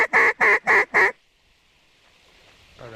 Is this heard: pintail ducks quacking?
yes